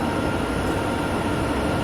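A long freight train rolls past in a train simulator game set on Sherman Hill, a steady, loud, continuous rumble of rail cars and wheels with no break across the whole stretch.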